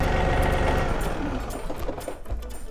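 A tractor engine runs during farm chores, a steady close mechanical chugging and rattling drone that holds for the whole moment with no talk over it.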